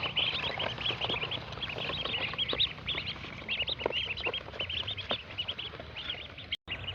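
A group of newly arrived ducklings eating, with a dense, continuous chorus of high, thin peeping and cheeping close by, punctuated by soft pecking, with no talk.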